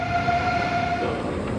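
Passenger train running on rails in Switzerland on the way to Andermatt, a steady close rumble of wheels and carriage with a sustained tonal whine or hum running through most of the stretch.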